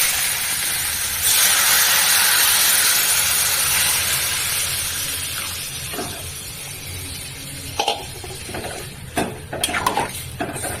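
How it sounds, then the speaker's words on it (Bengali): Steady hissing sizzle of hot water poured into a simmering vegetarian curry in a hot pan, loud at first and slowly settling, with a few clinks of a utensil near the end. "এবারে গরম জল দিয়ে দিন, সুন্দর করে কষিয়ে নিই। গরম জলটা দিয়ে দিচ্ছি।"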